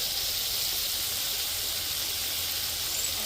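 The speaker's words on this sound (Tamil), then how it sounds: "அங்கால வந்து இறால் பொரியுது" Prawns fry in hot oil in a home kitchen, a dense, steady sizzling hiss that carries on loud and unbroken throughout.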